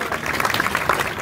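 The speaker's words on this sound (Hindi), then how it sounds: "उनके लिए ताली बजाइए प्लीज।" A lecture audience claps together, a brief dense patter of many hands at moderate volume.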